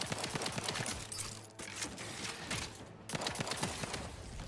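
Rapid video-game gunfire crackles in Outer Worlds 2, with dense bursts of shots broken by two short pauses. The firing is steady and close, faint in level, and no one speaks.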